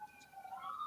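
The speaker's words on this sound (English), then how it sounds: "sorry about the sirens" An emergency vehicle siren wails faintly outside, a thin rising tone that swells a little as it passes in the distance with no voices over it.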